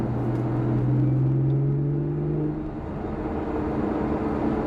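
A 2011 Lotus Evora, a mid-engine rear-wheel-drive car, gives a steady low engine rumble heard from the cabin, a held drone that eases off partway through and settles into a quieter hum.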